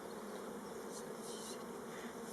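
A honeybee colony buzzes during a spring hive inspection, a dense, steady drone of many bees filling the whole stretch at close range with no voices.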